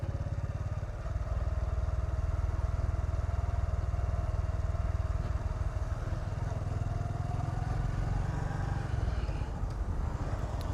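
Motorbike engine running steadily during an early-morning ride through Pattaya, a close, continuous low drone that holds for most of the ride before dropping off near the end.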